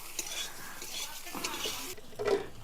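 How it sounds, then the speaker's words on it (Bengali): Eggplant frying in a pan with salt and turmeric: a spatula stirs and scrapes against the metal with clinking knocks over a light sizzle, close and brief. "আর দেব অল্প পরিমাণ হলুদ গুঁড়ো দিয়ে আর একটু নাড়িয়ে চাড়িয়ে ভালো করে ভেজে নেব"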